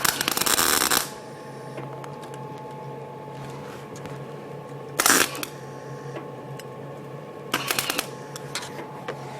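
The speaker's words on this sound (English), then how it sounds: "we're going to do a weld real quick" MIG welding on sheet metal with an Eastwood welder across a gap: three separate bursts of crackling arc hiss, the first about a second long, the others shorter, with a quiet hum between them.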